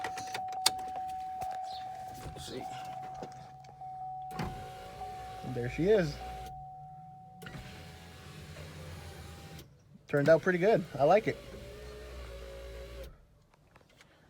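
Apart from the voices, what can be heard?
Nissan Titan power rear window operating in GMC Sierra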